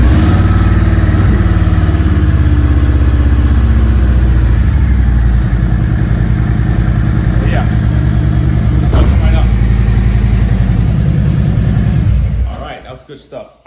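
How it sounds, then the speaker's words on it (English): A 2022 Harley-Davidson Road Glide motorcycle engine rumbles loudly and steadily at close range with a deep idle, then cuts off and falls quiet near the end. "Now let's see if the bike will start up."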